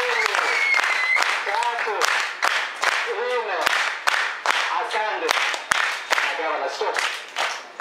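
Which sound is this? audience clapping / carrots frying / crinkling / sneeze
audience clapping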